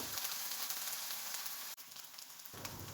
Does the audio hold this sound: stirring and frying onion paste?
yes